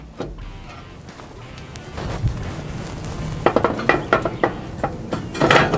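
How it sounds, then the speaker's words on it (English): Cast iron cooking grates being set onto a hot charcoal grill, heard as a series of sharp metallic clanks and scrapes over a low background hiss, growing busier toward the end. "the next thing I'm going to do is set my cast iron cooking grates in place and let them get nice and hot"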